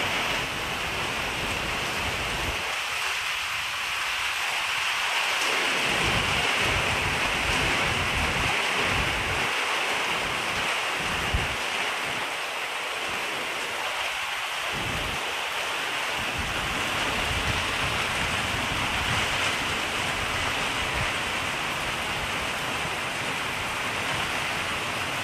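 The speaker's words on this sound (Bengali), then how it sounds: "তো বৃষ্টিটা কিন্তু প্রচুরই হচ্ছে বাইরে" Heavy monsoon rain pours steadily outside a window, a dense unbroken hiss that stays loud and even throughout with no voices.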